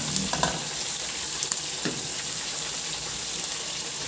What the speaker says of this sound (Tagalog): At igisa ko na yung bawang.